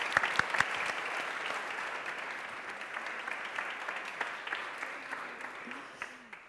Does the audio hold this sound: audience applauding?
yes